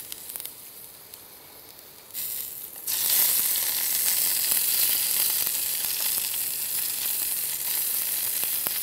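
Marinade hits hot food on an Everdure Fusion rotisserie, producing a loud, bright, continuous sizzle that swells suddenly after a quieter start and holds steady near the grill.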